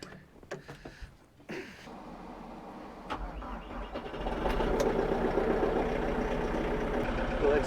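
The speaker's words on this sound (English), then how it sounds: "I'm gonna go ahead and warm the tractor up." A tractor engine on a farm turns over after some clicks and knocks, then catches and settles into a steady, growing idle as it warms up on a snowy winter morning, heard up close.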